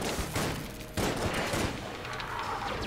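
Rapid video-game gunfire, dense bursts of shots in two loud volleys followed by a fading tail of scattered quieter shots and echo.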